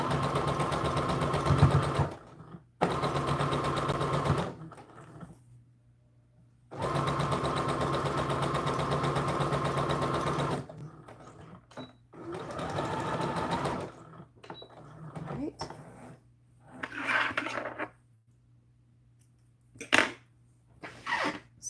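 Domestic sewing machine stitching a flat seam on a small doll dress, running in several sustained bursts of steady whirring with short pauses between, close and fairly loud, followed by quieter handling noises.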